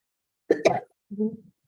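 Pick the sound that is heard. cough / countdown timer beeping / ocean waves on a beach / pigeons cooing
cough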